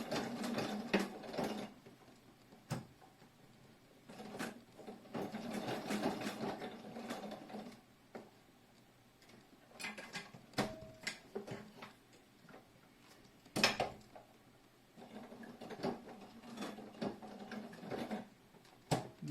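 Sewing machine stitching the strap of a Jody shoulder bag, with a strap glide and extra thickness under the presser foot, running in short repeated bursts with brief pauses between runs.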